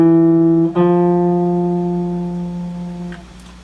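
Two sustained electronic tones with rich even harmonics, a lower note for about 0.7 seconds then a step up held near three seconds, ending in a brief third note; steady, clean and alone, like tuner or synth pitches stepping upward.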